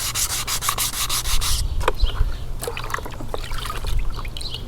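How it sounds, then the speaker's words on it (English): Textured plastic car trim being wet sanded, opening with rapid rhythmic scrubbing strokes, then easing into slower, softer rubbing with light wet scraping, close up and without talk. "I'm just finishing up with the wet sanding all the pieces that had texture on it"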